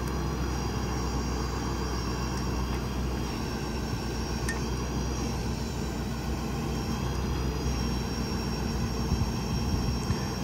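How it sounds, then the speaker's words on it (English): A 2019 Ford F-550 mechanics crane truck, a 4WD diesel crew cab, swings its boom out to full reach with a steady, continuous drone of engine and hydraulics that holds an even level throughout, with no talking. "super quick operation on the boom"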